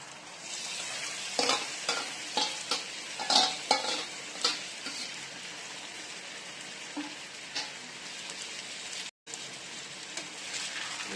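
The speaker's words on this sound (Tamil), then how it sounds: "எண்ணெயிலே நல்லா கிளறி விட்டுறலாம்" Marinated goat liver sizzling in hot oil while being stirred in a pan, a steady close fry hiss broken by repeated scraping strokes that fade toward a constant sizzle.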